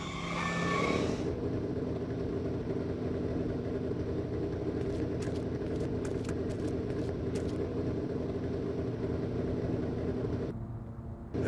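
A DeLorean time machine in the Back to the Future video game drives with a steady, loud engine drone lasting several seconds, set among brief clicks and effects, and it cuts off near the end.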